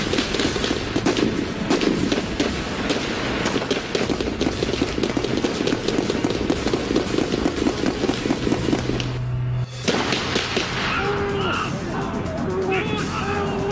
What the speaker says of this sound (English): The exchange of fire from only a few yards apart is up close and personal.